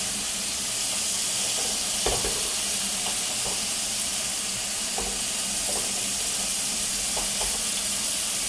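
A ribeye steak sizzles steadily in a pan, a constant loud hiss with a few soft clicks and taps from the cookware, no talking.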